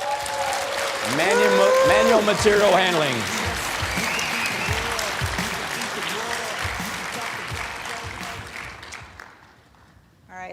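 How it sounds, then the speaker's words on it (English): Crowd applause at an ergonomics awards ceremony, a sustained wash of clapping from many hands that swells early and slowly fades toward the end, heard beneath a presenter speaking over it. "All right, round of applause."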